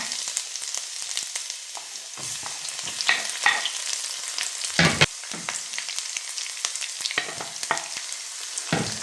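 Ginger and garlic sizzle and fry steadily in sunflower oil in a pan while being prepared for beetroot pickle, with occasional stirring scrapes and clicks and no talking.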